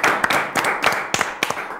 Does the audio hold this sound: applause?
yes